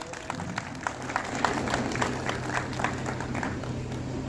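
Loud, steady applause from a crowd at an election campaign event in Sector 82, welcoming former Punjab health minister Balbir Sidhu, with sharp claps sustained for several seconds.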